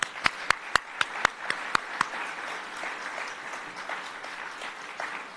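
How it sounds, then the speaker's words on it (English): Audience applause at a Queen Mary memorial gathering, a few loud distinct claps ringing out near at first, then settling into softer, steady clapping from the crowd. "let's give them a round of applause"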